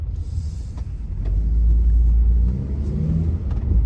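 A crashed first-generation Honda CR-V drives along the road, its engine a steady close low rumble that swells and grows louder partway through, with no voices.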